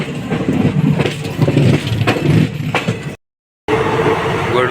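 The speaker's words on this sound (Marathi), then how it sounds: "तर आता आपली ट्रेन सुटलेली आहे." Dadar Express train pulling out of Kalyan station, a loud rumbling rail roll with rhythmic clatter close by, briefly cut to silence before resuming.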